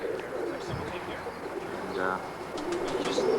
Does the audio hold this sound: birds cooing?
yes